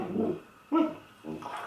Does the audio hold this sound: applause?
no